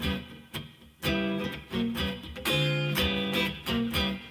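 Funky blues ninth chords strummed on guitar with half-step slides between shapes: choppy, rhythmic stabs and sliding chord changes, played alone with no voice.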